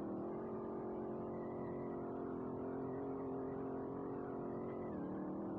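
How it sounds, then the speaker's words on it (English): A car engine in Street Legal Racing Redline holds a steady, strained high-speed drone as the car drifts, with a slight pitch dip near the end and no talking. "There's some high speed drifting though"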